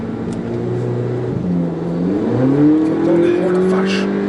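A 2018 VW Polo 6 GTI engine revs up under acceleration, heard from inside the car, its tone rising steadily through the gears. Voices talk under the engine.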